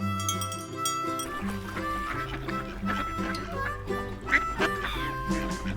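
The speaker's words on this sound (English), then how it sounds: "Ducks." Farm ducks quack repeatedly in a lively run of calls, set over steady upbeat background music with no talking.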